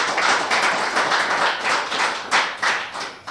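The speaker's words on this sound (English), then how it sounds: "And I think they deserve another round of applause." Graduation audience applauds new PhD graduates, a sustained wash of many hands clapping at steady volume for over three seconds, fairly close and full with no talking over it.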